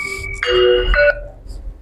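A phone ringtone plays loudly and close, a short melodic electronic phrase of a few rising tones that stops abruptly, then quiet room noise follows, with no talking.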